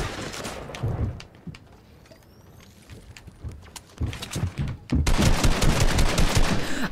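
Rapid gunfire in Fortnite, scattered shots at first, then a dense, loud barrage of overlapping bursts in the final seconds, heard alone without talking.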